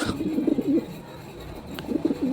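Pigeons at the Chourunggi pigeon market in Shariatpur coo in two clear bursts of bubbling, rolling calls, close and moderately loud, separated by a quieter gap with a single sharp tick.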